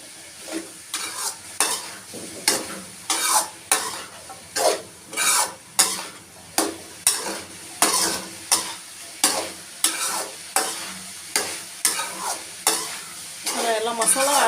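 Soya chunks and masala sauté in a pan under steady sizzling, with a spatula scraping in regular strokes about once a second, close up and without speech.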